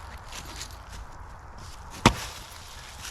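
Hults Bruk Agdor Montreal axe, 3.5 lb, splitting tough wood with a single sharp pop as the piece severs, near and loud against a steady outdoor background hiss.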